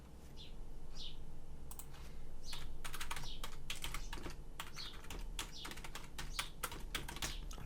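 A URL being tapped out on a computer keyboard, quiet bursts of quick light key clicks with brief pauses, a faint bird chirping in the background.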